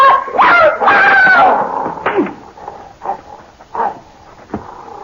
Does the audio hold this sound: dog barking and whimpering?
yes